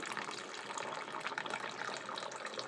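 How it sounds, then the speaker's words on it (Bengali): Water pours steadily into a pot of ridge gourd dal, a continuous close splashing stream with no voices over it. "অল্প করে একটু জল দিয়ে দেবো"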